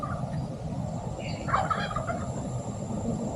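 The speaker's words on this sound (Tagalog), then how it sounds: "Pabo." A turkey gobbles in a rural outdoor setting, one warbling call at mid-distance over a steady background rumble and hiss, with no talking.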